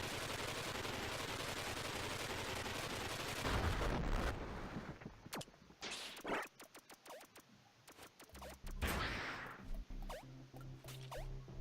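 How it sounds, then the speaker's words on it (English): Missile and rapid weapon fire in the 2D action game Iconoclasts, loud dense blasts at first, then a string of sharp cracking shots and impacts, with no talking. "And I kill him with one missile."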